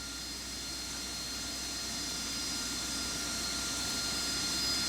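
An AV-8B Harrier jet taxiing in the Falcon BMS flight simulator, a constant loud engine roar and high whine that swells slightly over a few seconds, with no voices.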